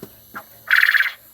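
A short, harsh, buzzy quail call bursts out close by after two faint chirps, rattling for about half a second.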